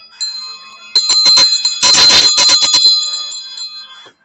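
A bright bell rings repeatedly in quick, uneven clusters, sharp metallic strikes with a lingering shimmer, close and loud with no talking.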